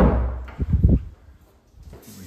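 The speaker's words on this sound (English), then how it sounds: "Let's pop those doors open for you." Closet doors in a rental house kitchen area being popped open, a cluster of knocking, rattling thumps followed by a quieter sliding rumble, close and fairly loud.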